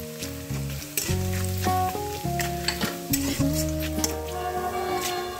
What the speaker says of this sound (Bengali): রসুনের যেন কাঁচা গন্ধ না থাকে সেইভাবেই আমি রসুনটা ভেজে নিচ্ছি